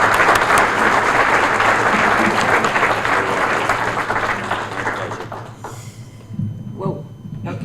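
Audience at a chamber of commerce gathering gives a long round of applause, dense steady clapping that fades toward the end as a voice begins speaking over the dying claps.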